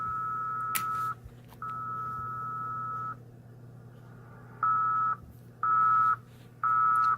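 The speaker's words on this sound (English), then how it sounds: "that is very slow Morse code" Very slow QRSS Morse code on amateur radio: long steady beeps, two drawn-out tones followed by three shorter ones, ringing clearly over a low hum and faint static.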